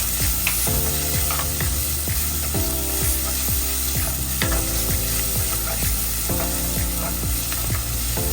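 Masala for a wallago fish curry is sautéed in a clay pot, a loud steady sizzle with repeated rhythmic scraping strokes of a spoon against the earthenware.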